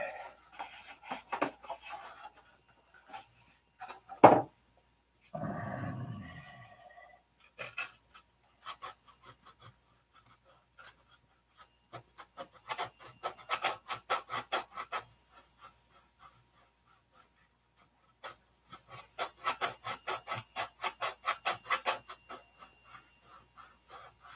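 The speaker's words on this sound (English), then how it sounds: "So we'll just sand it open." Wood on a model airplane wing is sanded by hand in short, rasping strokes, alone and close. Quiet gaps separate clusters of rapid back-and-forth scrubbing, with one brief louder knock near the start.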